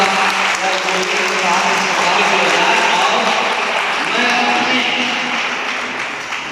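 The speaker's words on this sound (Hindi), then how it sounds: "एक बार जोरदार तालियों से इनका" A crowd at an inter college event in Gazipur gives loud, sustained applause, with voices faintly underneath, easing off slightly near the end.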